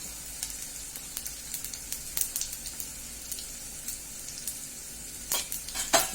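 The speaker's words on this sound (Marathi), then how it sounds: "मिरची थोडी तळत आली की मी जिरे टाकायचे" Green chilies and cumin seeds fry in oil for a home breakfast, giving a steady soft sizzle with scattered light crackles and a few sharper pops near the end, close and fairly quiet with no talk.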